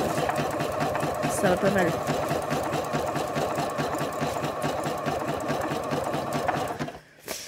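A sewing machine runs steadily, stitching thin rabbit fur pelt for a cushion, with a continuous mechanical whir throughout before stopping near the end; a person talks briefly over it.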